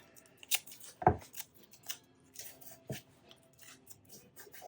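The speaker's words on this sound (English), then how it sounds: "So I'm going to start trimming that off." Scissors trimming a transfer sheet for a rustic barnwood sign, a few crisp close snips and cuts at irregular intervals, with no talking.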